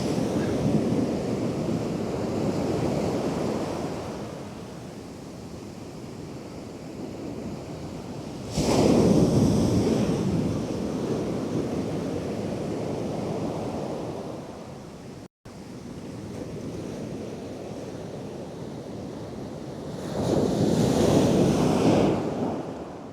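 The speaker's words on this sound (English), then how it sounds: "there's a big wave" Big waves break on a beach, crashing close by in two heavy surges several seconds apart over a constant roar of surf and gusting wind buffeting the microphone, with no speech.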